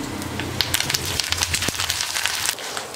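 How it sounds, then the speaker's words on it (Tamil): Curry leaves drop into hot oil already roasting peanuts and dal for tamarind rice, setting off a loud, dense burst of crackling and popping that sputters on steadily. "இப்போ கருவேப்பிலை போட்டுக்கலாம்."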